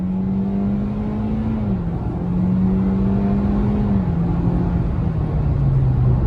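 A 2022 Toyota Corolla SE hatchback accelerating from inside the cabin, its engine drone climbing steadily in pitch and dipping briefly at two gear shifts, loud and continuous with no voices.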